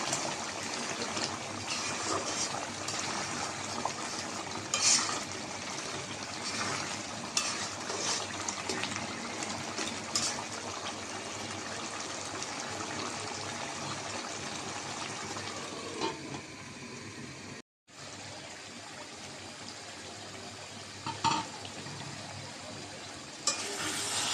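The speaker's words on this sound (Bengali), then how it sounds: "ঢাকনাটা দিয়ে দেবো মাংসটা আমি একটু লাড়া দিয়ে দেবো" Beef curry sizzling in a pot as it is stirred, a steady frying hiss with soft scraping that runs throughout, broken by a short silent dropout near the end.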